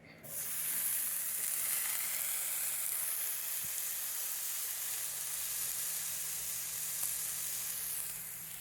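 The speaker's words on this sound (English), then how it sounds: "as you can see, they are sizzling right now" Loud, continuous sizzling fills the whole stretch, a steady bright hiss of food frying in a hot skillet with no talking.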